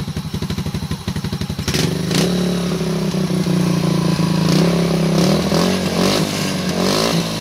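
A Kawasaki Aura motorcycle with a stainless steel exhaust pipe, idling with a rapid loping putter, then revving into a loud sustained drone with rising throttle blips, close by.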